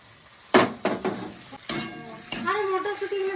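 Pounded garlic, ginger and chilli paste lands in a hot frying pan with a few sharp clatters and scrapes, then sizzles and hisses steadily in the oil.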